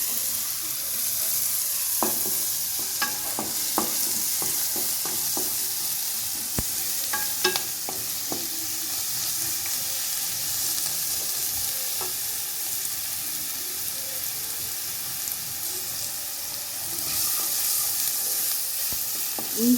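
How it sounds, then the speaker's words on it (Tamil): Ginger garlic paste sizzles steadily in a hot pan. Sharp clicks and scrapes from stirring break through the constant frying hiss. "இஞ்சி பூண்டு பச்சை வாடை போகிற வரைக்கும் வதக்கணுங்க."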